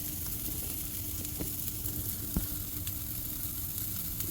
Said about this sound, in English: Chicken sizzling, boy.